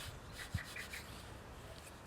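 Ink is rubbed onto a stencil over a stamped card, a faint, close, continuous soft rubbing with a single small tap, with no voices.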